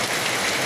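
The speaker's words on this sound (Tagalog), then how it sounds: "Kusog ulan diri guys" Heavy rain pours steadily on a muddy road in a rural field area, a loud, dense, continuous hiss close by with no talking.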